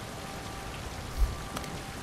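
Rain falls steadily onto stone in the game Uncharted 4, a soft, even hiss with a faint low thump partway through and a brief brighter patter near the end.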